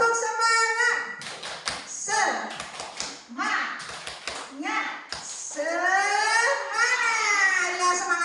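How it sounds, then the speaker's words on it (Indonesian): Group rhythmic clapping chant (tepuk semangat) during a teacher mentoring session, with sharp bursts of hand claps mixed with voices chanting in rhythm, followed by lively speaking. "Tepuk semangat."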